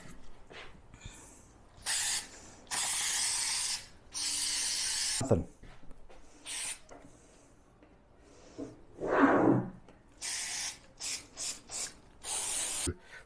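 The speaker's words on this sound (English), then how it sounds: "So here is the spray adhesive." Permatex heavy duty spray adhesive hissing from an aerosol can onto scrim foam for a motorcycle seat cover, in a series of loud bursts of one to two seconds with short pauses, plus a few rustles and handling noises between them.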